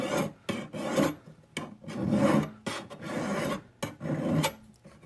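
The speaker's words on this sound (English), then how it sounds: "I'm filing along this edge using the same motion, but I'm using a finer hand file to remove all the deep marks left by the coarse hand file." A fine hand file works along the edge of a metal cuff in about eight short, close rasping strokes with brief pauses between them, and no talking.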